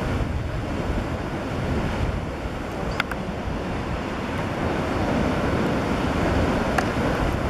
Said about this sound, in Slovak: vidíš, tam už bijú vlny